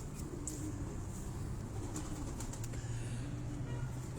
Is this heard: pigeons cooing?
yes